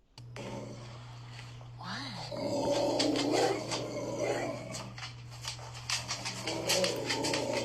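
A dog growls and whimpers close by in short, uneven bursts while a person talks over it, with a steady low hum underneath.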